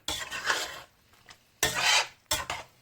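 A spoon stirs an okra and meat stew in a pot, seasoned with salt and lemon, with the stove just turned off. Three bursts of close, rasping stirring scrape against the pot, separated by short pauses, and no one talks.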